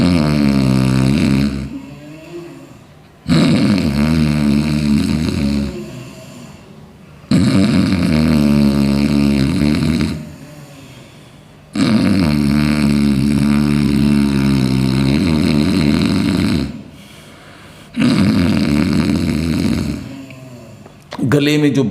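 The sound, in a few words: snoring-like breathing sound during pranayama yoga exercise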